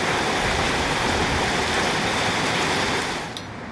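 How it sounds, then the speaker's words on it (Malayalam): A heavy summer downpour rushes in a thick, constant wash of sound, then quickly fades away at the very end. "നല്ല മഴയേ"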